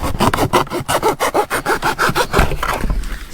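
Serrated knife sawing through cardboard flaps, a close, steady run of rapid back-and-forth rasping strokes with no one speaking.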